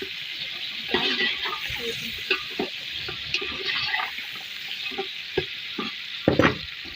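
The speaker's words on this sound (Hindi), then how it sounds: "चिकन को जो है ऑयल में सही भूनना पड़ता है" Chicken frying in oil in a pan, a steady hiss and crackle of sizzling with scattered pops and stirring scrapes, moderately close and continuous.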